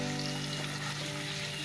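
Cubed potatoes rubbed with turmeric and salt fry in oil in a frying pan over medium-low heat, giving a steady, close, even sizzle that runs unbroken throughout with no talking.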